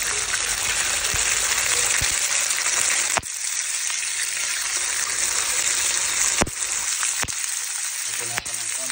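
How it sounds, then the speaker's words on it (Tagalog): Chicken fillet fries in a pan with a loud, continuous sizzle and crackle, broken by a few sharp clicks and scrapes of utensils. "Then ipa-fried lang natin ang ating chicken fillet."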